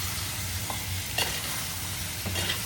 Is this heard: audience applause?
no